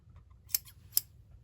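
Scissors give two crisp, close snips a half second apart while trimming ribbon on a handmade paper lavender box, set against near silence.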